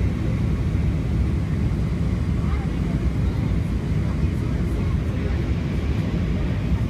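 Steady, loud broadband cabin roar inside an American Airlines Airbus A319-132 on final approach with landing gear down, a dense low rumble and airflow hiss holding constant throughout with no break.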